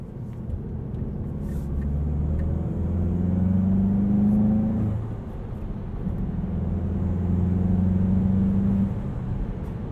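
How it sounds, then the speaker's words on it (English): A 2020 Volkswagen Golf GTI Autobahn with a turbocharged 2-liter engine and six-speed manual drones steadily from inside, swelling twice as it revs, with a soft whir over the engine note. "You can hear the turbo sounds."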